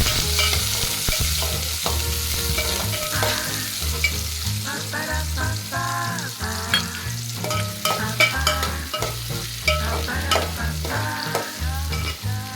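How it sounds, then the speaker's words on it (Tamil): Onion and curry leaves sautéing in oil with fennel and kalpasi, a steady, fairly loud sizzle with frequent stirring clatter, under rhythmic background music. "எண்ணெய் சோம்பு கொஞ்சம் கல்பாசி எல்லாம் போட்டு நல்லா இலையில் வணக்கிடணும் வெங்காயம் கருவேப்பிலை போடணும்"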